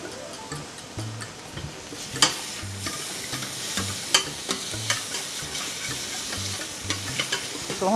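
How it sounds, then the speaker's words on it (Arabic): Mushroom sauce is reheated in a pan, giving a steady soft sizzle close by with repeated scraping stirs and occasional sharp clicks of the utensil against the pan. "هون عم نعمل المشروم صوص بدها تطلع ثانية بس عم سخنها أنا"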